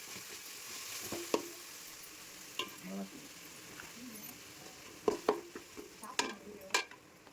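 Food sautéing in a pan for a fish dish, with a soft steady sizzle and intermittent sharp clinks and scrapes of a spoon stirring against the pan, quiet and close.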